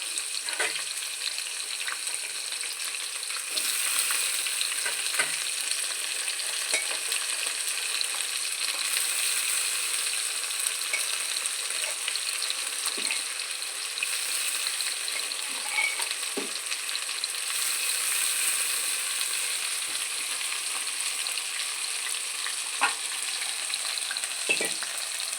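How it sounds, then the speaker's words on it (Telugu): Food frying steadily in a pan, a continuous hiss of sizzling oil with occasional faint clinks and stirring scrapes throughout, no voices. "పచ్చి వాసన వరకు ఫ్రై చేయాలండి."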